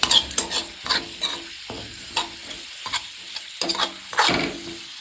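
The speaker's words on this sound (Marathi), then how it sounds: "लसणाच्या पुड्या ही तळून सर्व निघले पाहिजे त्यात." Garlic cloves frying in hot oil in a kadai, a soft bubbling sizzle broken by brisk scraping stirs and sharp clicks of a spoon against the pan, close by and without speech.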